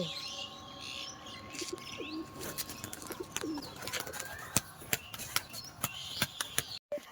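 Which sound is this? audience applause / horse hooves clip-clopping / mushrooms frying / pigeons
pigeons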